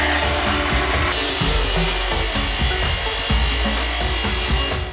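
A hand saw rasps steadily through wood in repeated back-and-forth strokes, close and loud, with no talking.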